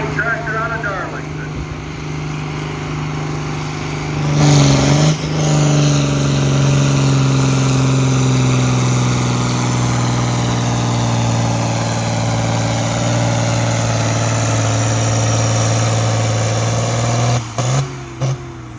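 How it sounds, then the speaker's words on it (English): Schilling pulling tractor from Darlington at a Cuba City tractor pull, its engine roaring loud and steady with a revving surge near the start and a drop-off at the end, heavy low drone throughout with some voices faintly underneath. "The Schilling tractor out of Darlington."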